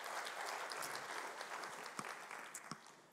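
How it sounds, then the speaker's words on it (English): A church congregation applauds as a woman walks up on stage, a steady patter of many hands clapping at moderate distance with a few sharper claps standing out. "So can you give her a clap as she comes up?"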